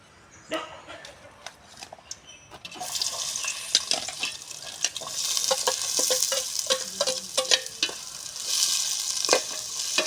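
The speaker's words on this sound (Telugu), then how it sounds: "ముందుగా అయితే ఆయిల్ వేసాను ఇప్పుడైతే ఆనియన్స్ అయితే వేసేసుకుందాము" Onions dropped into hot oil for a home-cooked curry begin a steady sizzle that swells after a few seconds, with repeated scraping stirs and utensil knocks close by, no talking.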